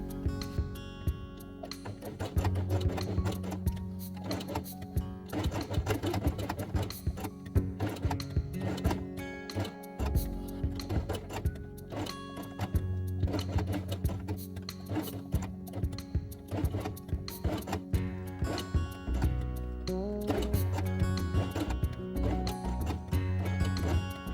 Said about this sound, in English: Then place small heart on red felt and sew along the edge with red thread.